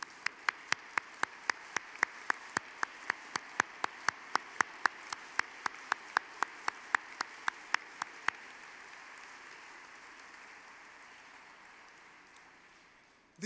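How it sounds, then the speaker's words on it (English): An award dinner audience applauds in a broad, steady wash that gradually fades away. Sharp, evenly spaced clicks cut through the first part. "Please join me in applauding them."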